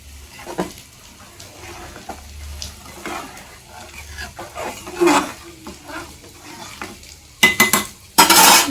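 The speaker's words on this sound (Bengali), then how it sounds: "এদিকে তোমার দেখো দশ টাকার ডিম ভাজা" Eggs and potatoes fry in a pan, with a low sizzle under scattered stirring and utensil clinks, ending in a few louder, close metallic scrapes and bursts of crackling.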